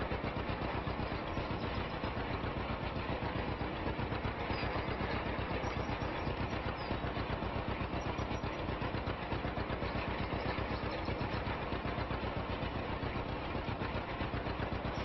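A vintage John Deere A tractor in Farming Simulator 25 runs with a steady, even engine putter, a rhythmic low-pitched chug that holds constant throughout without pauses or talk.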